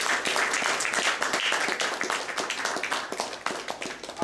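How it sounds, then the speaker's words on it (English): A round of applause at a Toastmasters club event, a roomful of people clapping briskly and close by for about four seconds, dense and uneven with individual claps standing out. "I just want you all to give a big round of applause for these gentlemen who are putting effort."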